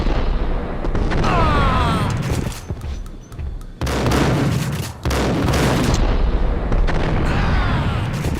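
Heavy explosions and blasts from the Max Payne video game, loud and booming in two long surges with a brief lull between them and no talk.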